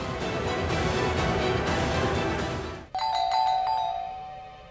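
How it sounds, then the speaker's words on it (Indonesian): A doorbell ringing in a home, heard as a clear chime tone that cuts in after a loud stretch of music or noise and rings out alone for the last couple of seconds. "Bel pintu berbunyi."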